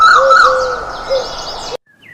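Sparrows chirp in a story sound effect, a loud, steady stream of bright tweets and calls continuing without pause before cutting off abruptly into silence.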